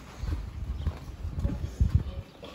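Horse hooves clip-clop on the ground at a goat farm, an uneven run of close, soft thuds that grows heavier near the end, with no other sound competing.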